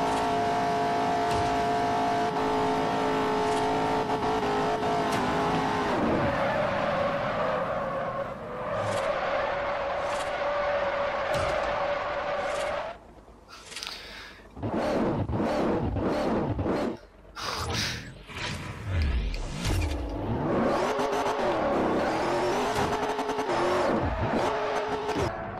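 Engine roar of a car in the Forza Horizon racing game, a steady high drone that drops and then revs hard through repeated gear changes, loud and continuous with brief skid-like sweeps.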